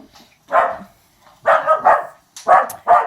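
A dog barks nearby, loud and sharp, five barks in quick uneven bursts with short pauses between.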